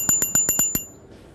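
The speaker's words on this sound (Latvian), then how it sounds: "un tad ir arī pat zvaniņš" A bicycle bell on a pedal-powered velo vehicle rings six quick, bright dings in an even rhythm, close and loud, then stops into quiet.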